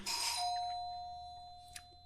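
A Dragonhunter guardian's bell skill in Guild Wars 2 rings out once as a bright metallic chime with sustained tones that slowly fade, followed by a faint click, with no voices.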